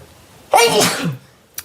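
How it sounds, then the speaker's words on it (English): A single loud, close sneeze bursts out with a sharp breathy blast, followed by a brief quiet pause and a small click. "I'm gonna sneeze."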